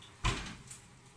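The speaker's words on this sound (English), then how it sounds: "Be careful when taking your hot pan out of the oven" A hot Tarte Tatin pan is lifted out of an oven: one sharp clunk of metal and oven door, then a short fading rattle in a quiet kitchen.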